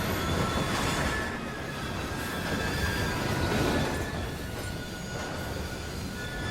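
Train rolling past in the video game Assassin's Creed Syndicate, a steady loud broadband rumble with faint metallic squeal tones running throughout, close and continuous with no talk.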